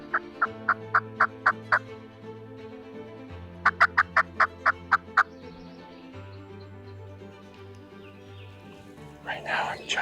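A wild turkey gobbles in two bursts of rapid repeated calls, fairly near and loud, over a low steady hum, with a rustling noise near the end.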